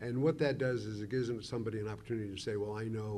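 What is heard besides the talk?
No everyday noises stand out.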